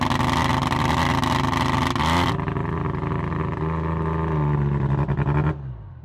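A Mazda RX-7's rotary engine roars through its exhaust, revving at high pitch, then drops abruptly and holds a steady lower drone before cutting off near the end.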